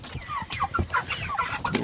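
Meat chickens cluck and chatter in quick overlapping calls close by, a busy flock murmuring with short sharp notes throughout.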